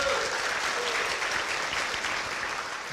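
Many audience members applaud at a motivational seminar, a full, rippling wash of clapping that holds steady and eases slightly toward the end.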